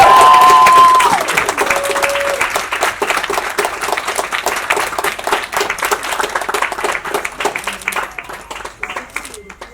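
A large audience at an award ceremony breaks into loud, sustained applause, dense rapid clapping that holds steady for several seconds and then gradually tapers off.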